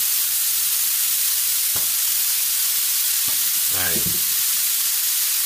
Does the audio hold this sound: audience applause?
no